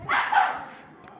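A German Shepherd dog gives a short, close bark, one quick burst fading out, with no talk over it.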